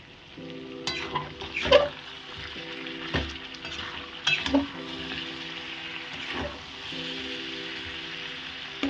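Duck meat fries in hot oil in a pan, giving a steady close sizzle broken by several stirring scrapes and clinks of a utensil against the pan, with no talking.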